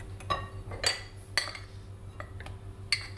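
A spoon stirs a semolina and flour mixture in a pot, giving irregular metallic clinks and scrapes against the pot at close range, spaced unevenly and fairly quiet, with no talking.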